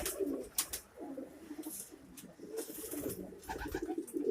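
Young Bursa pigeons coo in soft, throaty bursts, several birds close by with short breaks between calls and a few brief clicks and rustles around them.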